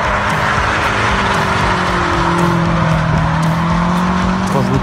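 A BMW M5 F90 in full rear-wheel-drive mode drifts with a loud, sustained tire squeal sliding in pitch over a steady engine drone, close and continuous throughout.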